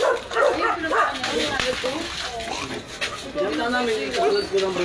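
A puppy barks and yips in short bursts close by, with people talking over and around it during food preparation outdoors.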